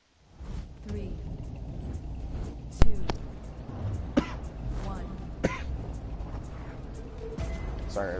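A man coughs and clears his throat a few times during a racing game session, sharp bursts over a steady engine rumble from the game.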